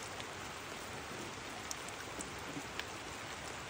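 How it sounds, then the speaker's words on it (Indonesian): Steady rain pours down on a traditional Toraja tongkonan house on an afternoon, a dense even hiss with scattered drip taps, moderately loud and continuous with no voices. "tongkonan atau sendana yang diguyur hujan pemirsa pada sore hari ini"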